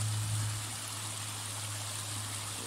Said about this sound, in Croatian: Neki lijepi potok.